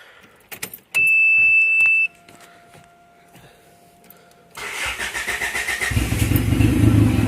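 A turbocharged Honda Civic engine is cranked after a few clicks and a steady tone, then catches and settles into a loud, building idle roar close by.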